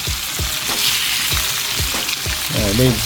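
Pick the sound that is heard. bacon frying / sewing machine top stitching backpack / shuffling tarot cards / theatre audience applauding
bacon frying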